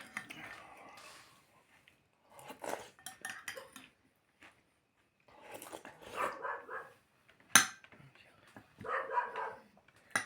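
The neighbours' dogs bark under the windows in short scattered bursts, heard at a distance indoors, mixed with the clatter of dishes and cutlery close by.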